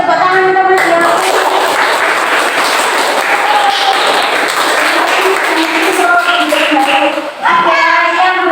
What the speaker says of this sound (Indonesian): Beri tepuk tangan untuk Mas Yongki.